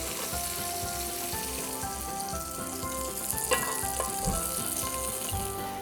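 Shrimps fry in a pan with a dense, steady sizzle and crackle, close and fairly loud, with a few sharper pops and occasional stirring and no voices.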